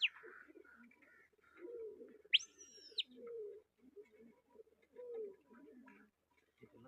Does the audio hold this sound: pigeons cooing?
yes